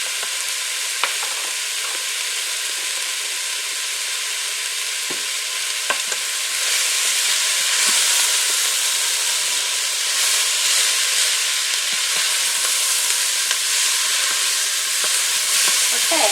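Garlic sizzles in an Instant Pot on sauté, a loud, continuous bright hiss that swells slightly partway through, with a few faint stirring clicks and no talk.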